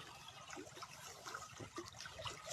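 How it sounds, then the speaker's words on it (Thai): Water flows faintly along a canal beside rice fields, a soft, continuous trickle and gurgle heard at low level with no voices. "น้ำไหลมากเรื่อยๆครับ"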